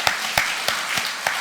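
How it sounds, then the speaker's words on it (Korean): A church congregation claps in a short, sparse burst, with a few distinct claps spaced roughly evenly over a soft wash of hands, no voices on top. "우리 박수로 다시 한번 격려하겠습니다."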